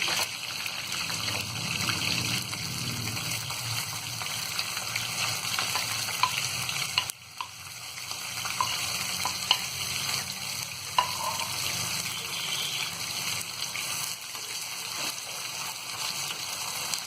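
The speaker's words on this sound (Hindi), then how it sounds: "और प्याज को हम गोल्डन ब्राउन होने तक फ्राई करेंगे।" Chopped onions frying in a pot for mutton haleem, a steady close sizzle with occasional stirring scrapes, briefly dipping partway through before resuming.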